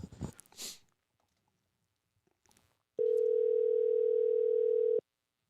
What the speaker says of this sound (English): It's dialing right now.